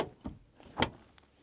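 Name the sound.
car door being shut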